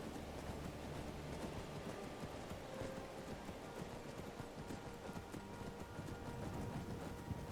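Horse hooves clip-clop steadily while riding through Skyrim, a continuous mid-level patter of footfalls mixed with rain-like ambient noise and no talking.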